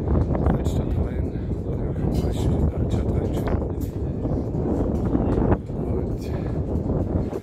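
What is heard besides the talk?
wind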